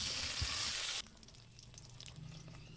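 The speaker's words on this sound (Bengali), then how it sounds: "ওই মশলা মাখানো মাছগুলা এক এক করে তেলে ছাড়িয়ে উল্টে পাল্টে লাল লাল করে সব মাছগুলো ভাজি তুলে নেব" Spiced rohu fish fries in hot mustard oil with a loud, hissing sizzle that drops abruptly after a second to a softer, crackling simmer.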